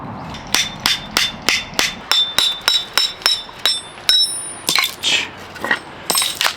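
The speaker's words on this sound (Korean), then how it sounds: "얘네들을 좀 조각내줄 그 정을 하나 들고 왔어요" A steel chisel struck repeatedly with a hammer to split thick firewood for a wood stove while winter camping: about fourteen sharp, evenly spaced metallic blows with a bright ringing clink, close and loud, with no talk.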